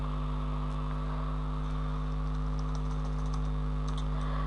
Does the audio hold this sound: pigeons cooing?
no